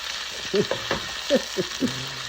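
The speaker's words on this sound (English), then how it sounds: "So we're going to keep sauteing this." Spinach sautés in a pan with a low, steady sizzle and a few soft scraping stirs, while faint voiced sounds come through over the frying.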